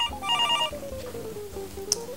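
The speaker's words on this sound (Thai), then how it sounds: "เฮ้ยโทรศัพท์กันเนาะ" A telephone rings with a warbling electronic tone, a short repeated chirp up front followed by a sustained ringing, moderately loud in an otherwise quiet room.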